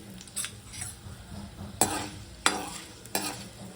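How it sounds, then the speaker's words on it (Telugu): Dried red chillies fry and sizzle in hot oil for a mango pickle tempering, with a steady low crackle broken by several sharp scrapes and clinks of a spoon stirring the pan, close and without talk. "ఇప్పుడు ఎండుమిరపకాయ కూడా వేసి వేయించుకోవాలి"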